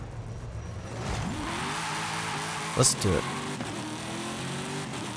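A 1977 Pontiac Trans Am in a video game street race revs its engine, its pitch climbing through gear changes, with a couple of sharp bursts midway while someone speaks briefly.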